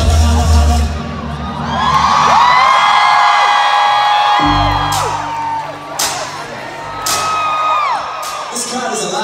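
A live comedy show audience whoops, shouts and cheers loudly, with high excited yells and a roaring crowd swell that rises and then eases, punctuated by a few claps or bangs.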